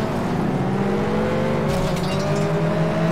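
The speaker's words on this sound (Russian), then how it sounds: "Садимся на Венома и едем спидвей." The Venom car in FlatOut Ultimate Carnage, racing on a speedway: a loud, continuous engine roar with steady harmonic drone, shifting pitch slightly as it accelerates, with faint scraping and tire noise mixed in, no voices.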